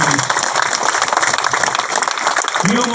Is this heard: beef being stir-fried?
no